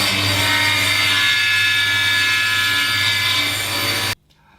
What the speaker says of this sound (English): So that's our slats cut down on the bench saw.